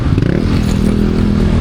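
A motorcycle engine runs loud and close with a steady, rough rumble and rattling texture throughout, with no voices over it.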